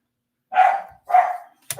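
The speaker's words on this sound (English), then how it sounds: "Nope, sorry, there go the dogs." A dog barks twice, close and loud, with a short gap between, then a third bark starts at the very end.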